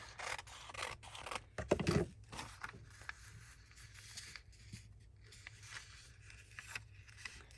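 Scissors snip through a sheet of paper during card crafting, a few short crisp cuts close by, quiet and separated by brief pauses.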